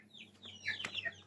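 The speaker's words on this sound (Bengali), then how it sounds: "আমাদের বড় মুরগি দেখাবো" Several backyard chickens in a pen cluck softly in short, uneven calls, close to the recorder with a low steady hum underneath and no talking.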